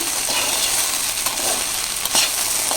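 Chopped onions and okra fry in a pan for an okra fry, producing a steady, fairly loud sizzle and crackle broken by a few scraping stirs.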